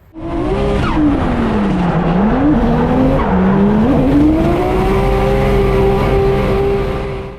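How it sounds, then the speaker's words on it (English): Car drifting at a big Australian drift event, engine note wailing and shifting while the tyres squeal continuously, loud and close for several seconds. "Here's what it is, it's drifting."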